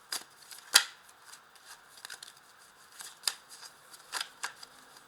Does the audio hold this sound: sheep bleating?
no